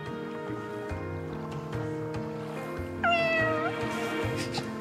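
At a live speedrunning event, a person imitates a cat with a single drawn-out meow rising over a steady background hum and murmur.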